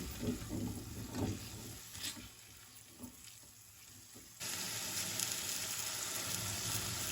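Shallots and carrots frying in a pan, a soft crackling sizzle with a few stirring knocks early on, then a sudden jump to a louder, even hiss that holds to the end.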